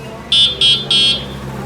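Three short electronic horn beeps from a DDVA400 electric scooter in quick succession, bright and buzzy, each about a quarter second long, over a low steady hum.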